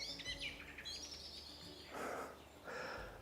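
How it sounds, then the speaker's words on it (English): Woodland birdsong with bright chirps and trilling calls, moderately close, joined by a few breathy rustling bursts over a quiet outdoor background. "Nice birdsong here in the woods."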